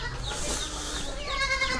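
Goats and sheep bleat in a farm pen, overlapping calls coming close and loud with a continuous layered cry over the whole short stretch.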